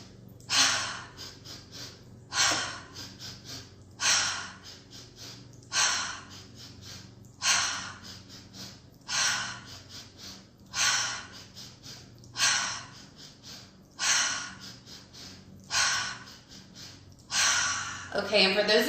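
Deep breathing exercise: a regular series of about eleven forceful breaths, each a rising inhale followed by a strong blow-out, spaced roughly every one and a half seconds and heard close-up.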